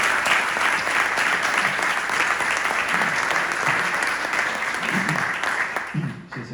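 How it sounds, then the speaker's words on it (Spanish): A lecture audience in Málaga gives sustained, dense applause after a speaker at a hispanist conference, steady and fairly loud. It thins at the end as a low voice begins. "Muchísimas gracias y un aplauso para María Elvira, por favor."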